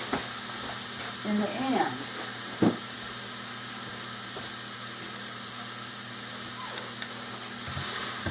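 Lean ground beef sizzles with a steady, broad hiss in a frying pan, with a few brief clinks and someone talking briefly over it.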